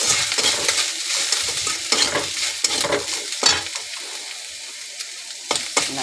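Coconut fries in a pan with a tempering of dry red chilli and radhuni for a lentil dal, giving a close crackling sizzle broken by repeated stirring scrapes in an uneven rhythm.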